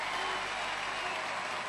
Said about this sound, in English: Louis, Laverne's dad, leads the applause.